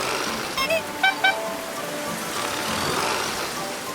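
Steady rain hisses on a surface, with a few short high chirps near the start; no voices. Cartoon rain in a children's animation.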